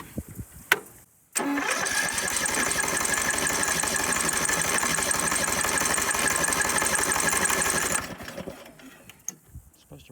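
A Troy Bilt lawn tractor engine cranks, catches and runs at a steady, busy idle for several seconds before cutting off abruptly, close by, with no talking.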